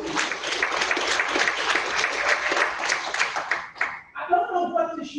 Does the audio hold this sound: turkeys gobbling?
no